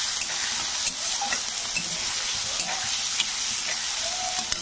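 Three medium onions fry in a pan for a mango fish curry, a steady close hiss of oil with scattered scraping clicks of a utensil stirring through them, no talking.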